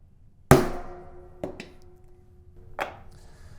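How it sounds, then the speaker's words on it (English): Mallet blows setting a double capped rivet in leather: one sharp loud knock followed by two lighter taps spaced about a second apart, close by in a quiet room. "Mallet. I'm going to do one blow to start."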